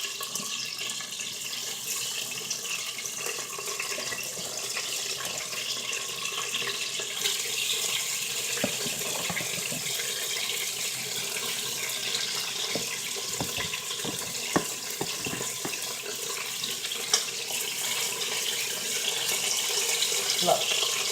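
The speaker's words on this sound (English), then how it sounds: "Feel the sizzling?" Chicken drumsticks sizzle in hot salted oil in a Crock-Pot Express pressure cooker, a steady broadband hiss and crackle that runs throughout with occasional pops and grows slightly louder toward the end.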